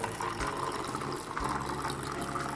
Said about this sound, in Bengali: এবার আমি ঘোলটাকে ঢেলে দিচ্ছি।